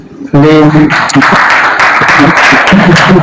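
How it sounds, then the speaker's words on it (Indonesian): A classroom group applauds after the first group's presentation in a fiqh teaching session, loud close clapping that starts abruptly, with voices speaking over it at times. "Silakan tepuk tangan."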